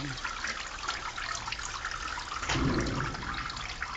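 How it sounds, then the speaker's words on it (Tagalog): Water trickles and gurgles steadily through a channel, with a fuller rushing surge midway, nearby and fairly quiet. "naririnig mo, may tubig"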